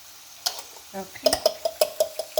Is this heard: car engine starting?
no